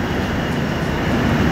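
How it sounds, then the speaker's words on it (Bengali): A DEMU local train pulls out of Udhampur station, a loud continuous rumble and rolling clatter close by, with no break over the short stretch. "ছেড়ে যাচ্ছে এখানকার লোকাল ট্রেন"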